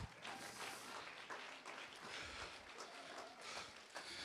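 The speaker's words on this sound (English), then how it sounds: "clap your hands to the Lord" A church congregation claps its hands during a lively sermon, a dense, fairly steady clatter of many hands filling the room for several seconds, distant-sounding and low in level, with no talk over it.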